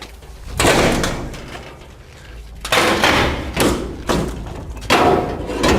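A door being forced open with a Halligan bar during a forcible entry drill; a heavy thud, then two more loud thumping strikes of metal against the door, close and echoing, with no talking.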